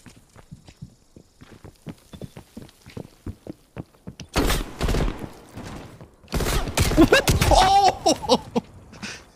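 Gunfire in the Call of Duty Cold War gun game mode: loud broadband bursts of shots dominate the second half, preceded by a stretch of softer rapid ticking clicks, all in close, dense game audio.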